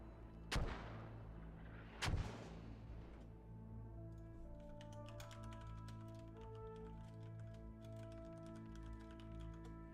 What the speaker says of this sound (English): So these mortars are definitely doing some work.